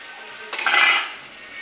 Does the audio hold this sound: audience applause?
no